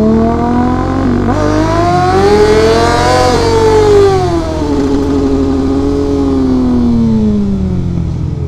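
Motorcycle revving hard for a wheelie, its engine rising sharply in pitch, holding high, then dropping and swelling again; loud and close with no talking.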